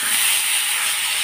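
Parboiled bathua greens, already salted and turmeric-seasoned, go into a hot pan of frying oil, giving a steady, loud hiss of sizzling that holds evenly throughout without voices.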